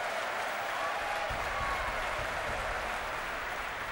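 Spectators at the 2004 Athens Olympic table tennis match between Jan-Ove Waldner of Sweden and Timo Boll of Germany clap after a net ball, a dense, even wash of applause filling the arena throughout.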